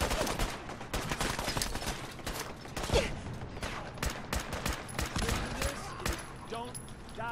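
Frag grenades and gunfire in Fallout 4 make a rapid string of sharp bursts and bangs, a busy, moderately loud combat soundscape with no clear pauses.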